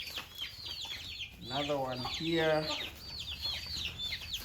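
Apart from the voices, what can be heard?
chickens clucking in a coop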